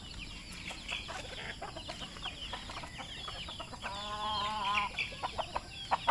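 Several chickens, including a Chinese chicken, cluck and cackle up close in a backyard garden, short bursts overlapping with a rising squawk midway.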